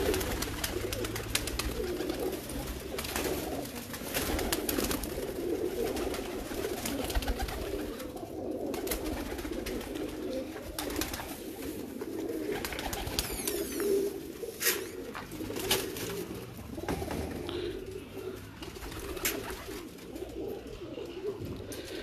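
Breeder pigeons, including a Jaunsari hen, coo softly and steadily in a low murmur, with scattered clicks and rustles and faint voices in the background.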